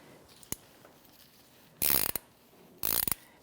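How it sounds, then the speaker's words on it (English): An 18mm ratchet wrench tightening a lock nut on the front lower control arm of a 2009-2014 Nissan Maxima: one faint click, then two loud, close bursts of rapid clicking, with no talk. "And my 18 ratchet wrench."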